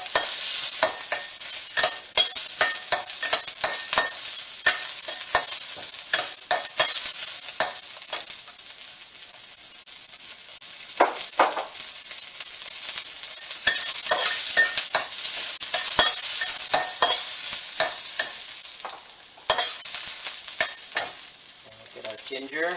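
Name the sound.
onions frying and being stirred in a pan for ribs in garlic sauce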